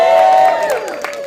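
Audience at a press conference for a Makassar film breaking into a short burst of cheering and clapping, a crowd roar that carries over a voice, loud and close, fading slightly toward the end.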